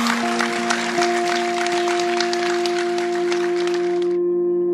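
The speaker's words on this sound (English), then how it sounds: "So we should all give ourselves a round of applause as well." A crowd claps in a dense, steady wash of applause over sustained tones underneath, and the clapping cuts off abruptly near the end.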